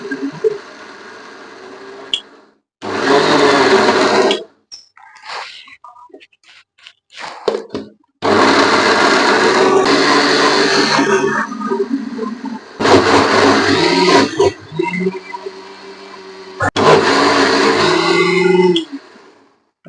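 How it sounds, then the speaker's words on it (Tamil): Mixer grinder grinding a batter of sprouted green gram, ragi and black urad dal, running in several loud bursts of a few seconds each with short pauses between them. "நல்லா மையாக அரைச்சி எடுத்துக்கணுங்க இப்போ இதை அரைச்சிக்கலாம்"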